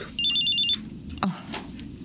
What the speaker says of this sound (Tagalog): Jesus, cellphone mo yung tumutunog.